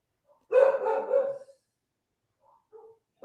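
Dogs bark in a quick burst of a few loud, close barks, followed by silence and then a couple of fainter yips, with no one talking.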